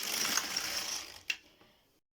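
An LK-150 knitting machine carriage slides across a row of double knit yarn with a rattling, ratcheting whir, ending in a sharp mechanical clack before fading to silence.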